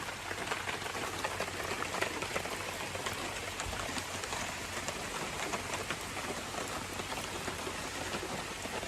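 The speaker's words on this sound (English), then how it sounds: "that's our look at a rainy day" Rain patters steadily on surfaces at a campsite, a dense, even hiss of drops that stays constant and fairly soft with no voices.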